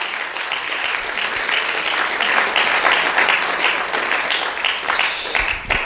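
A crowd applauds loudly and steadily for about six seconds, a dense, even wash of many hands clapping close by with no voices over it.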